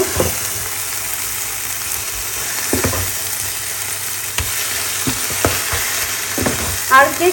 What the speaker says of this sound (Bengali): আমি এখন পুরোটা মিক্স করে সুন্দর করে ভেজে নেব।